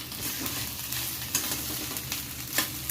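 Rice tossed and stirred in a hot pan for Home Chinese style veg fried rice, a steady close sizzle with scraping spatula strokes and occasional louder clatters, no voices.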